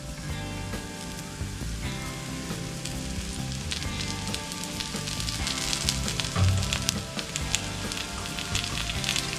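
Appe batter sizzling and frying steadily in an appe pan after a little oil is drizzled over the top, a continuous crackling hiss throughout with no voices.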